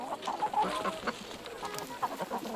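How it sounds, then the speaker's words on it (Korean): Chickens cluck in a steady, busy chatter on a free-range farm at the foot of Jirisan mountain, several birds calling close by with no voices over them. "지리산 자락에 자리를 잡고 닭을 키우기 시작한 지 8년째."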